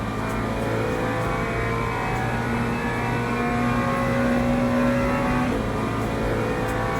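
A GT3 race car engine drones steadily around a wet Monza circuit in the racing game Le Mans Ultimate, a loud continuous drone with rising and falling gear pitches and a brief downshift.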